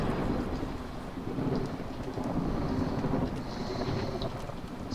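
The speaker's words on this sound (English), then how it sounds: "So the next storm is coming in" Storm in the video game Against the Storm: heavy continuous rain with low rolling thunder rumbling underneath, a broad steady wash close around the listener, no talking.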